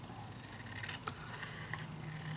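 Scissors cutting through paper for a stamped mini album craft project, a few quiet close snips and rasping slides over a soft background hiss.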